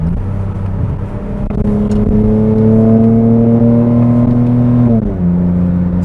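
An original Lexus IS 300's engine drones loudly from inside the car, pitch climbing steadily as it revs, then dropping sharply and settling on a lower note as it blips on a downshift.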